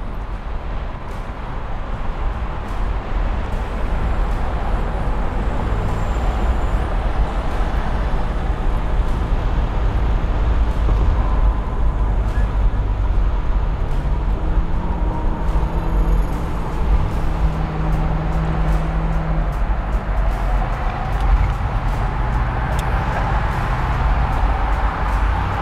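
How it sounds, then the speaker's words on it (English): A 1963 fuel-injected Corvette cruising on the road, its steady engine and road rumble continuous and close throughout, with smooth transmission shifts blending into the drone and no talk. "This transmission shifts nice and smooth."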